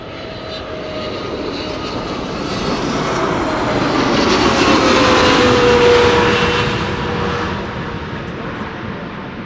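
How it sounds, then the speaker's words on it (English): A KLM passenger airplane, about 15 years old, arriving at Amsterdam Schiphol Airport, its engine roar swelling to a loud peak mid-pass and then easing off, with a faint whine gliding downward. "It's the airplane formerly known as the SkyTeam livery."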